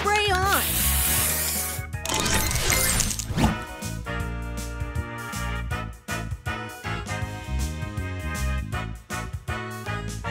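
Spray booster effect from the Match Masters puzzle game: a bright hissing, sparkling burst sweeps through dense game music and jingles, with an announcer-like voice and chimes layered over it.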